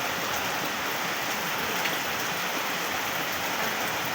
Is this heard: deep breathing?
no